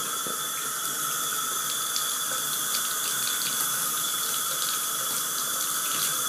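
Water runs from a tap into a sink in a steady, loud, unbroken gush that stays close and even from start to finish.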